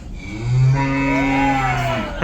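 Cow moo sound effect played during a quiz game on a cruise ship, one long, loud, drawn-out low moo with a rising and falling tone, heard alone with no talk.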